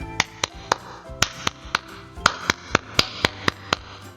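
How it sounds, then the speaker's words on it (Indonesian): A group repeats the Pramuka scout clap: around a dozen crisp, close claps in a fixed syncopated pattern, some in quick pairs and others evenly spaced, with no voices over them. "Diulangi ya. Tepuk pramuka."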